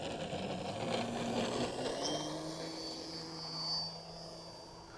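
An 85-inch Skywing Extra NG RC plane flies overhead at dusk, its propeller engine droning steadily at moderate distance with a gentle swell in pitch and loudness as it passes.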